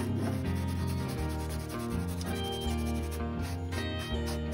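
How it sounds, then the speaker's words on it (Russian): A sponge rubs over bumpy paint on a round wooden box in continuous back-and-forth strokes, a close scratchy scraping over a steady background drone. "Шкурка, вернее губка, пачкает вот эти вот пупырышки на краске."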